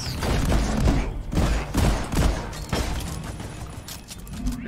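Dense rapid gunfire rattles in bursts from the video game Deep Rock Galactic, loud and near, with chaotic impacts and mechanical clatter between volleys.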